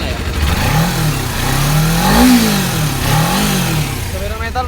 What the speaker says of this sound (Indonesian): langsung saja kita gas cek soundnya dari dekat untuk keadaan mesinnya ya